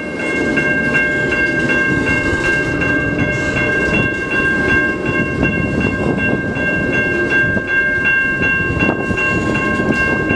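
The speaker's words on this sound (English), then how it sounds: "Yep, he is slowly picking up speed" A CN freight train slowly picks up speed through the Mill Street crossing in Ecorse, Michigan, its cars rumbling and clanking close by while the crossing bells ring on steadily.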